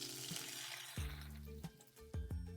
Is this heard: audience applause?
no